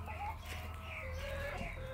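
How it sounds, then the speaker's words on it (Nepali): Chickens cluck and chatter continuously at a poultry farm in Jhapa, a dense flock of about fifty to sixty birds heard close and steady, with one rooster-like call rising above the busy clucking. "यो बाँचेका मोटामोटी 50-60वटा कुखुरा होलान्।"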